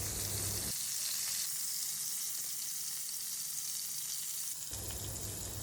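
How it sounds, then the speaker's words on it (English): Pointed gourds (parwal) seasoned with salt and turmeric frying in hot oil over a medium flame, a steady close hiss of sizzling with a brief louder burst at the start and end. "on medium flame, we will fry them until they turn golden brown from all the sides"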